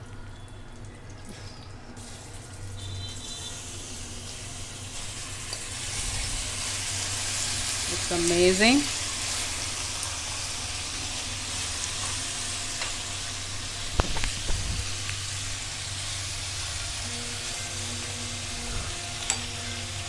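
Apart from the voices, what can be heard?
marinated chicken sizzling while frying in oil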